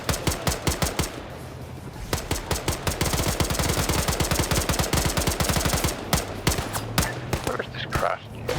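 Gunfire in the tactical game Xenonauts, set in a Cold War-era clash between American forces and aliens, long bursts of rapid evenly spaced shots, some pauses and separate volleys, loud and close, with talk at times.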